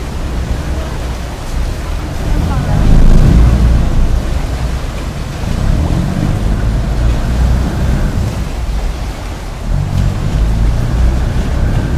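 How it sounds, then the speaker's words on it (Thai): A diesel passenger boat at a busy Khlong Saen Saep pier in Bangkok rumbles loudly and continuously, its deep engine drone mixed with churning water and no talking. "เรือดีเซลนะครับ"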